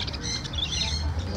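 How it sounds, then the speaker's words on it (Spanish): Small birds chirp and tweet in a shop, with quick high twitters over a low, murmuring indoor background, fairly faint and brief. "Qué lindos pajaritos."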